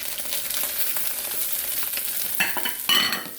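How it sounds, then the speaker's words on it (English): Chinese sausage and onions fry in hot oil in a pan, giving a steady close sizzle with scraping stir sounds that grow louder near the end. "Now we'll add the Chinese sausage. Now we'll add some onions."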